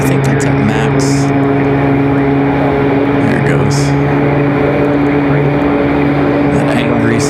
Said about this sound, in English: That angry sound from those Max engines.